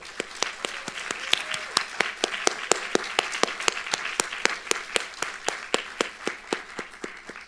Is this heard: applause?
yes